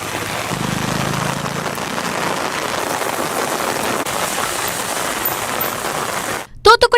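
Heavy thunderstorm rain pours down on town roads in a steady, dense hiss, continuous and fairly close, before cutting off abruptly near the end.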